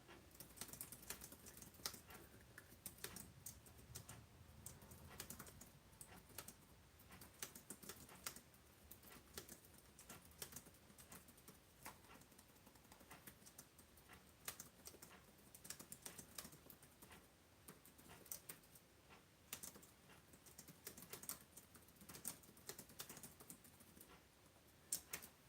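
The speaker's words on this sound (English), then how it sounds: "Maybe you can hear me typing" Steady, quiet typing on a computer keyboard, rapid key clicks continuing throughout at an even pace with no talking.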